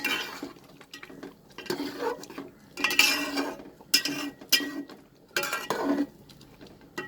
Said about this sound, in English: it started boiling. So I will stir it.